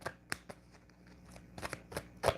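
Tarot cards being shuffled close by, a quiet run of soft riffling and crisp snaps at an uneven rhythm, with no voices.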